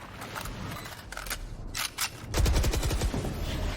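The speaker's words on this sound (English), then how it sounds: "Oh, that reload. It was quite loud." Loud weapon reload during a Valorant match, mechanical clacks and a sharp rattle standing out against constant in-game background noise and a later burst of rapid gunfire, with no commentary over it.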